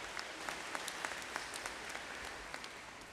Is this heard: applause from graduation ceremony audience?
yes